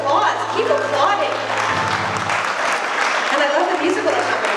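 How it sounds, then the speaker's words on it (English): Banquet audience applauding at a care home's 70th anniversary celebration, a full, sustained roar of clapping from a large room, with a steady musical tone running underneath. "I love this applause. Keep applauding."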